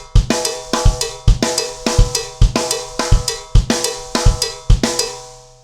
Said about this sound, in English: We'll play it on the cowbell.